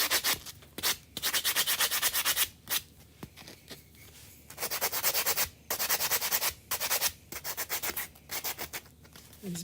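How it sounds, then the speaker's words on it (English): Someone hand-sands the edges of a chalk-etched bird design, making quiet, close scratchy rubbing strokes in uneven bursts with short pauses between them. "Let's see if we can slightly sand those edges."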